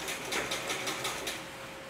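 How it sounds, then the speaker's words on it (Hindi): A sewing machine stitching a dhoti salwar runs in short repeated bursts of rapid needle clatter with a faint steady hum, close and moderately quiet, with no talking. "आसन को सिल के और ऊपर से डबल सिलाई लगा लेंगे इसके ऊपर से"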